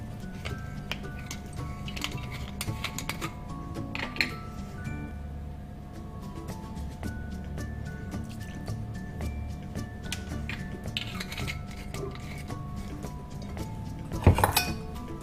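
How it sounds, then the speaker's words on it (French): Frangipane cream being mixed in a bowl with a utensil, a faint, close run of irregular light clinks and taps against the bowl over a quiet room, ending in a sharper knock, with no talking. "Et on mélange jusqu'à l'obtention d'une pâte homogène."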